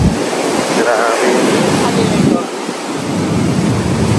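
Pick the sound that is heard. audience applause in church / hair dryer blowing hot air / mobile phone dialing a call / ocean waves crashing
ocean waves crashing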